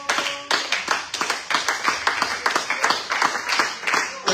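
A church congregation claps rhythmically during a Sunday worship service, a steady run of sharp, even handclaps in a quick beat throughout, with voices faintly present underneath.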